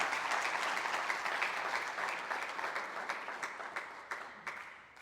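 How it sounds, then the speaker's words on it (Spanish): A church congregation claps together in sustained applause, dense and even at first, then thinning into scattered, sharper claps as it fades. "Vamos a dar una ofrenda de palmas."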